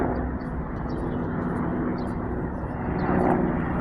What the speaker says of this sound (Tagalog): the helicopter is there